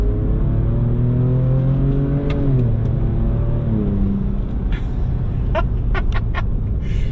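A Ford Ranger Raptor pickup's engine revs up loud and close with a rising drone, drops briefly at a gear change, then keeps pulling under steady road rumble.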